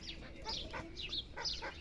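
Hens clucking in a poultry pen, a few short soft calls close by over a low background hum, with no voices.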